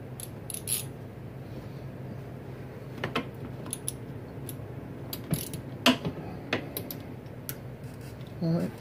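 Ratchet wrench snugging a bolt during an oil change on a Honda Recon ATV, heard as a few soft, spaced clicks and light metallic ticks at close range in a quiet space.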